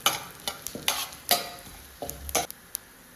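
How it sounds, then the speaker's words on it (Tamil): Spoon stirring chana dal and cumin frying in a pan for bitter gourd chutney, a few quick scraping strokes and clinks against the pan over a soft sizzle, close by. "அதனால் லைட்டாக கிளறி விட்டுக்கலாம்."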